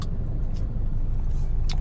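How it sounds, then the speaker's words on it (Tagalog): Road traffic with cars rolls past in a steady low engine rumble, nearby vehicles droning continuously with a few brief hissing swells, no talking. "Traffic."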